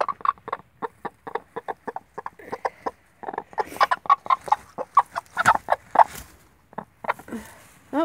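Hens cluck in a rapid, irregular run of short close calls, a backyard flock murmuring and clucking steadily with no speech.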